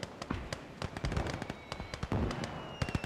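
Repeated sharp blasts and crackling impacts of mortar strikes in the WWII video game Call to Arms: Gates of Hell, a dense irregular barrage of booms landing at mid distance across a trench fight.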